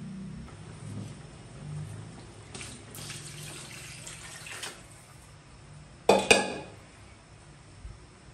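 Water pours into a cooking pot of simmering pork dish for a few seconds, a soft splashing rush, followed by a couple of sharp metallic clanks from the pot or a utensil, all fairly quiet with no talking.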